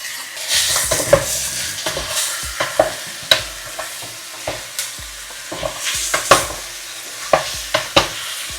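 Chicken curry with celery sizzles and fries in a pan while a utensil scrapes and knocks against it in irregular stirring strokes, close and fairly loud, with no talking.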